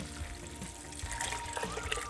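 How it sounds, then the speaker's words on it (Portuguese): Water poured over soybeans in a pot while preparing homemade tofu, a steady close trickling and splashing that stays fairly even throughout. "eu vou cobrir com água"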